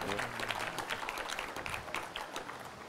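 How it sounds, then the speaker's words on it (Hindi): A lecture audience gives a short round of clapping at a spiritual talk, dense and steady throughout, with a faint voice low underneath. "एक छोटी सी ताली मुझे लगे कि मुझे आप सब लोग सुन रहे हैं"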